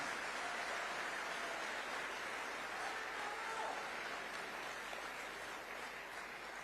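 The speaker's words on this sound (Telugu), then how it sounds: "గట్టిగా చప్పట్లు కొట్టి మీరు కూడా సహకరించాలి" An audience at a public gathering applauds in a dense, steady wash of clapping, moderately distant and even throughout with no clear breaks.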